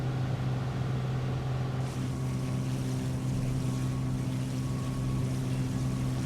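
Turbo Arrow piston engine in Microsoft Flight Simulator 2020, running with the overboost light on, gives a steady loud droning hum with a low harmonic buzz throughout, no pauses.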